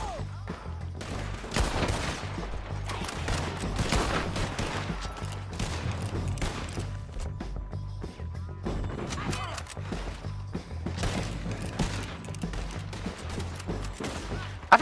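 A shootout in a valley in Red Dead Redemption 2 brings dense, repeated gunfire, with bursts of overlapping shots cracking in clusters throughout and brief lulls between volleys.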